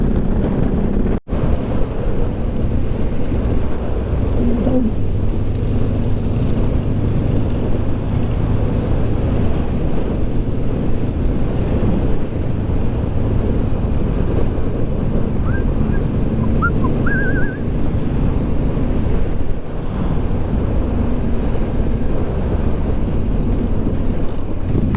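Strong wind roars steadily over the microphone at a desert kiteboarding spot, a dense continuous rumble with a brief thump near the start and faint higher chirps partway through.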